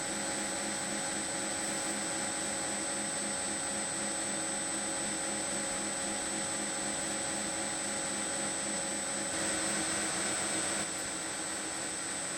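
A grinding wheel cuts a channel along a steel knife tang, producing a steady high whine and continuous rushing roar with a sustained tonal hum, even and close throughout without speech.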